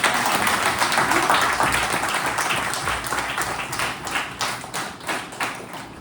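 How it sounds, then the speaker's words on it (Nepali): A church congregation gives loud, dense applause, many hands clapping together close by, strongest at first and then tapering slightly over six seconds, with no voices. "हाम्रो आदरणीय पास्नी आमालाई तालीद्वारा ठुलो ताली"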